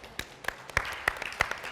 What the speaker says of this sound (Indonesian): Tepuk tangan, Ibu.